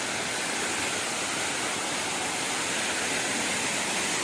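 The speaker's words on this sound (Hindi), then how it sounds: "कुएं मारी जलप्रपात को झक मारी देखने आए हैं हम लोग इतना बरसात में" The Kuyemari waterfall at Keshkal, swollen in the rainy season, gives a dense, constant roar of falling water. The sound holds an even, broadband hiss throughout with no voices.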